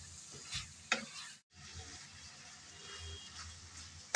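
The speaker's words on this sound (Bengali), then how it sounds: "ডিমগুলো দিয়ে আবারও একটু নেড়েচেড়ে ভালোভাবে মিশিয়ে নেব।" Eggs and dried poa fish (shutki) are stirred together in a frying pan, with a continuous moderate sizzle broken by a few sharp spoon clacks against the pan and a short silent gap.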